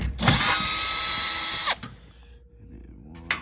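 A cordless power drill spins out screws from a Paxton 10 PoE door controller, one loud whining run of about a second and a half close up, then a brief second whir after a pause.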